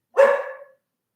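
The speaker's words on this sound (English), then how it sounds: "your dog's sitting here barking at me" A single sharp dog bark close by, loud and brief, then silence.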